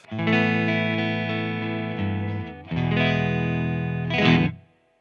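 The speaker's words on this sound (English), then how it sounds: "Let's start with the pedal off, just to hear the amp." A clean electric guitar rings out chords through an amplifier with an overdrive pedal switched off, two long sustained strums followed by a brighter scraping accent before it fades to silence.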